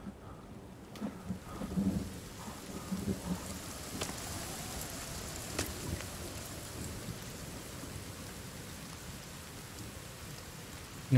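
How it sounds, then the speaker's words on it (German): Rain and thunder in the survival video game The Forest, a steady hiss of rainfall with several distant thunder rumbles and cracks, fairly quiet and with no talk over it. "Ah, geil, es regnet wieder."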